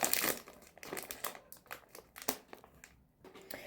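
Crinkly plastic packaging of buckwheat crispbreads is unwrapped close to the microphone, a run of irregular crackles and rustles, loudest at the start, with no talk.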